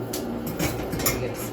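Spoon scraping and clinking against a bowl while stirring shrimp roll filling with plenty of ginger, a steady close rustle with a few brighter knocks.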